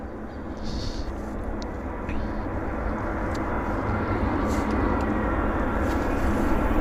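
A Delta airliner arriving from Minneapolis–St. Paul lands at Vancouver airport with a broad, loud jet roar that holds steady and slowly builds, and faint radio chatter comes and goes beneath it.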